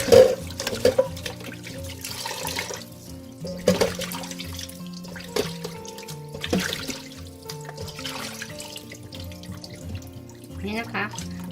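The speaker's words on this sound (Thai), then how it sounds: "เราใส่น้ำเลยค่ะล้างเลยนะคะ" Water is poured into a pan and swirled to rinse it in a kitchen, giving a moderate splashing and running sound with intermittent clatter, mixed with background noise.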